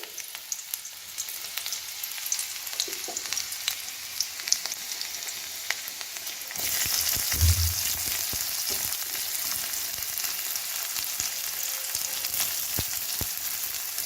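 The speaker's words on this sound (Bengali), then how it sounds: "এটা জাস্ট হালকা করে আর কি ভাজতে হবে" Onion and pasta lightly frying in a pan, with a steady close sizzle throughout that grows louder midway as more goes in, plus a few soft stirring knocks.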